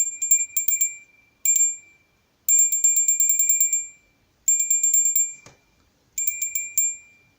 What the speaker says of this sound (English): I'll start off by ringing the bell for love.